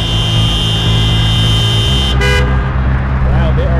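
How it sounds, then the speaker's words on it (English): Car horns honk on a blocked-off Los Angeles street: a long sustained blast, then shorter toots over loud, constant traffic rumble. "Here's the honking."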